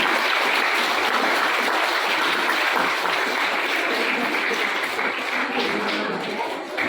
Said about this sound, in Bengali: বিশ্বজিৎ এবং পার্থ স্যার জোরে হাততালি